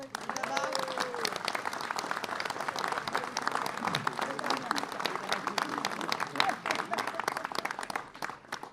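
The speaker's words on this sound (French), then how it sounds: "Cette réception, on peut l'applaudir en fait." Applause from an audience at a mayor's New Year reception, a steady dense patter of many hands filling the room, moderately loud and sustained with faint crowd murmur beneath.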